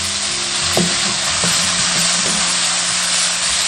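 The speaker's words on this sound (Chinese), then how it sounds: "锅中倒油，下入肉末炒至变色" Minced meat stir-frying in hot oil in a wok, a dense, loud, continuous sizzle with a few light spatula scrapes and taps near the start.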